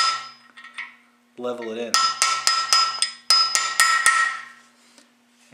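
The back of a bolt tapping a freeze plug into an engine block, about eight sharp metallic knocks in two quick groups, close and ringing, with someone speaking briefly beforehand.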